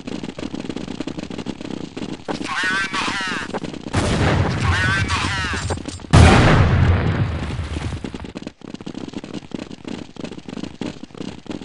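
Gunfire and a booming grenade blast in Counter-Strike 1.6 on de_blackmesa or de_dust, loud and dense, with a heavy burst about two thirds through and sustained shooting around it, with voice callouts in the mix.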